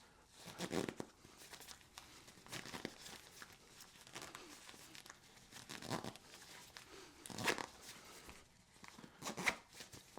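Beefy zippers on a heavily loaded, dense packing cube are pulled shut under strain, giving a series of short raspy crinkling and rustling bursts with fabric handling noise between them, close and moderately loud, no voices.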